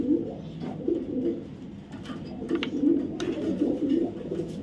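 Racing club pigeons coo in soft, repeated throaty bursts close by, several overlapping calls rising and falling with a few faint clicks and rustles in between.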